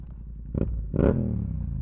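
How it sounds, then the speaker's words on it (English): A Yamaha MT-07 parallel-twin (CP2) motorcycle engine with an aftermarket exhaust barks through two quick throttle blips, the second louder, with a rumbling, crackly exhaust note between them. "This CP2 engine, paired with an Akrapovic exhaust or any aftermarket exhaust or slip-on"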